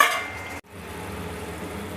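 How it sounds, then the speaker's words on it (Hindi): Paneer korma is stirred gently with a spatula in a pan over low to medium flame, giving a soft continuous scraping and sizzle that breaks off briefly before resuming. "और इसे हल्के हाथ से हम मिक्स कर देंगे ऐसे 1 चम्मच या स्पैचुला की मदद से"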